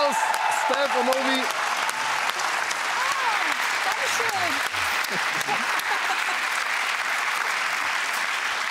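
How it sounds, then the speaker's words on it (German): Studio audience applause greets two musicians arriving on a talk show set, a dense, steady wash of clapping that fills the whole stretch at even loudness, with a few louder claps and some cheering mixed in. "Großen Applaus, Steph und Novi."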